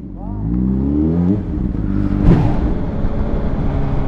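An Audi R8 sports car sweeps past with a rising engine roar that swells to a peak mid-way and then fades, set against continuous street noise with people talking nearby.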